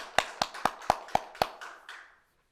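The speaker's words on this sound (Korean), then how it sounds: "여러분 박수 한번 쳐주시기 바랍니다." Church members at home applaud for birthdays: about seven sharp, evenly spaced hand claps, close and fairly quiet, with the last ones trailing off before silence.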